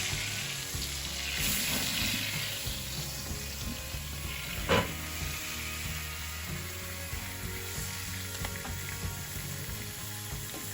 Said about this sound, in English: Give it a quick sear.